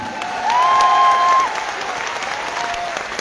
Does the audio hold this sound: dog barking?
no